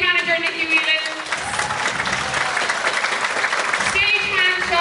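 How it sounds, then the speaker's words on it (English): An audience at a theatre show applauds the stage manager, broad steady clapping filling the room while a voice speaks over it at the start and end. "So stage manager, just give a big clap."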